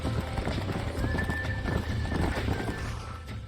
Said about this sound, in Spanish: Es bonito este caballo.